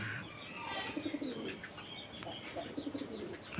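Pigeons coo in soft, repeated throaty bursts close by during morning feeding, with faint chirps and light rustling in the background.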